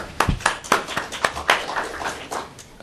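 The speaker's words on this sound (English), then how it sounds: "If you could give him a round of applause, please." Scattered handclaps from a small audience at an academic climate policy forum, a sparse, uneven round of clapping with distinct individual claps rather than a full roar, moderately near.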